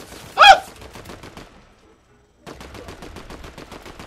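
Rapid bursts of automatic gunfire in Fortnite ring out: a loud shot near the start, a short silence, then a fast, even stream of shots.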